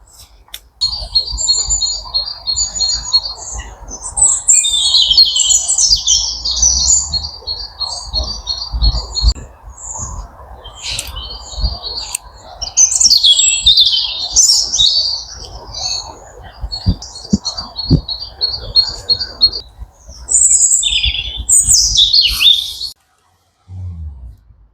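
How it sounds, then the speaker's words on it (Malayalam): Birds chirp and call in a pine forest inside a town, repeated bright trilling phrases coming in bursts over a faint steady insect-like hum, fairly near and lively throughout. "ഈ കാടിൻ്റെയും കിളികളുടെ സൗണ്ട് നിങ്ങൾ ശരിക്കും കേട്ട് നോക്കി."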